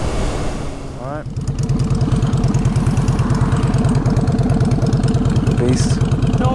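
A 2019 Kawasaki Ninja 636 motorcycle engine idles steadily and loudly close by, a fast, even pulsing throb after a brief revving change, with a voice talking briefly over it.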